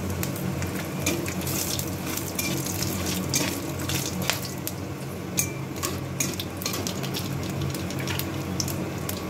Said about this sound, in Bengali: আমি ওই তেলের মধ্যেই পটলের ভাজা তেলটার মধ্যেই দুটো তেজপাতা, এক টুকরো দারচিনি, দুটো এলাচ, তিনটে লং আর কয়েকটা সাদা জিরে ফোড়ন দিলাম।